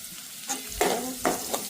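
A spoon stirs ivy gourd and green chillies for a sambharo as they fry in a pan. Four scraping strokes rise out of a soft, steady sizzle, close by and fairly loud, with no one speaking.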